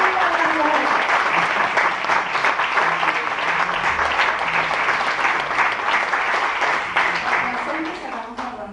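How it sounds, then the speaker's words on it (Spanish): An audience at a book presentation breaks into warm applause, a thick, continuous patter of many hands that stays loud throughout and eases slightly in the final second. "se merece un gran aplauso"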